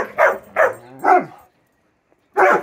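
A dog barks close up: three quick loud barks in a row, a brief silence, then another bark.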